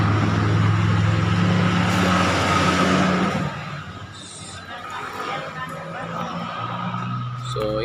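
A carbureted Honda XRM125 motorcycle engine runs with no battery fitted, giving a steady, loud, rumbling idle throughout, with a voice heard over it.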